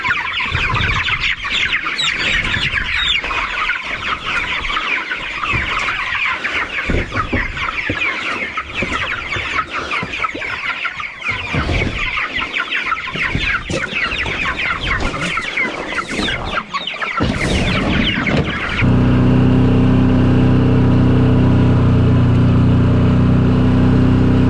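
A flock of about a thousand broiler chickens clucks and chirps in a dense continuous chatter while being moved out to a tunnel, with handling thumps and rustling, before the sound cuts to a steady low hum near the end.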